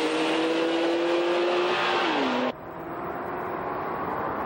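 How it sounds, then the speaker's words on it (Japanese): Honda NSX accelerates hard in a drag race with wheelspin. The engine drones loudly and steadily, drops in pitch, then gives way to a broad roar, with no clear voices. "NSX ホイールスピン"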